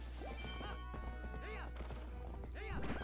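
Hooves clip-clop from a horse galloping in the video game Twilight Princess HD, a steady run of hoofbeats with occasional whinnies over a constant game music bed.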